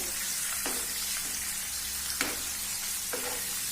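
Chicken pieces fry in hot oil with a dense, continuous sizzle close up, and a few soft knocks from a utensil turning the pieces.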